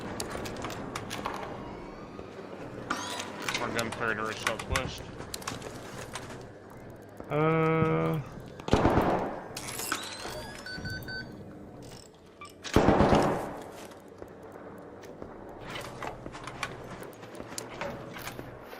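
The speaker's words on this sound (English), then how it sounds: "More gunfire to our southwest." Scattered gunshots ring out in a video game, a few sharp bursts spaced seconds apart among other game sounds.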